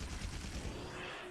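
A heavy weapon in Monster Hunter World fires explosive shots, a loud dense burst of booming blasts with rumbling low end, alone without talk.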